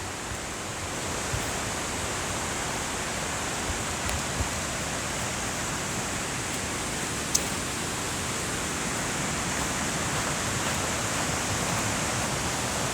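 Large waterfall on the Dalälven at Laxön, Sweden, giving a steady broad roar of rushing water that holds level throughout, with a few faint clicks and no voices.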